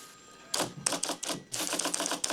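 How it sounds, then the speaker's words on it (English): A manual typewriter clacks through a report in quick bursts of keystrokes, with a short pause between two runs of typing, close and fairly loud with no talking. "You think typing reports in triplicate is gonna stop Riley DiNardo"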